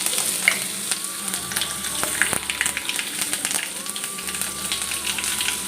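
Mustard seeds frying in hot oil as tempering for a Rohu fish curry, a continuous fine crackle and sizzle with scattered pops and a faint hum in the background, close and fairly quiet.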